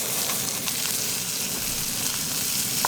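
A giant mushroom fries in oil on a camp stove outdoors, giving a steady, close, even sizzle with small crackles and pops throughout and no talking.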